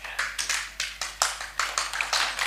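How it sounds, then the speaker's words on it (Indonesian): A small audience clapping hands together in short, rhythmic bursts at a campus talk, roughly a dozen quick rounds of clapping with brief gaps between them, moderately loud and without talk. "Tepuk, baru nanti hentikan."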